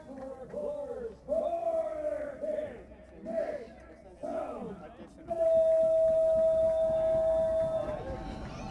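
A PA announcer's long, drawn-out amplified calls echo over a soccer stadium during a Savannah Clovers FC match, with a crowd roaring and chanting beneath the voice.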